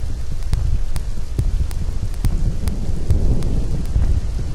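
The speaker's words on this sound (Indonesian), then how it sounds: "Hujan mengguyur tidak deras menemani warga yang lelap tertidur." Light rain falling at night over a village in Cijeruk, Banjarnegara, Indonesia, a steady soft patter and hiss with occasional sharp ticks and low rumbles, close and constant, no voices.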